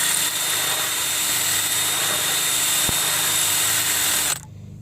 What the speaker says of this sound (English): So I started with a small drill bit, went with a bigger one.